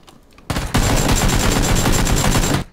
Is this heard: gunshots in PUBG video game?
yes